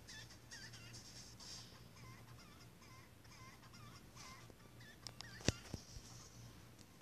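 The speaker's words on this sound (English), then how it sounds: "These chickens are nuts." Chickens in a Roblox video game cluck faintly against a low steady in-game hum, followed near the end by a few sharp clicks.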